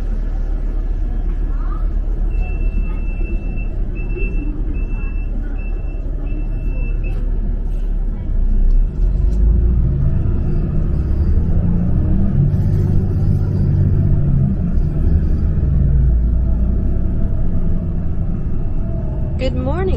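Loud, steady low engine rumble and road noise inside a moving Bangkok BRT bus, with a brief high tone early on and a rise in rumble near the middle.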